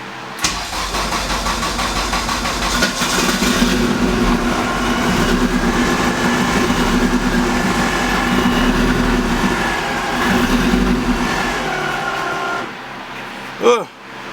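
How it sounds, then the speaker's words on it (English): A Honda K24-swapped Toyota MR2 engine, with its idle air control valve removed, cranks and catches, then idles loud and a little unevenly before cutting off abruptly. Voices can be heard alongside it. "Took the idle air control valve out, so might have been a little rough on first startup."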